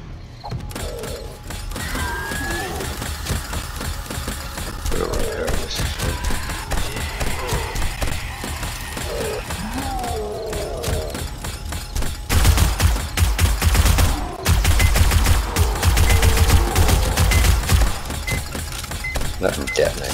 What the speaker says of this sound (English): Gun turret is doing staunch work for us.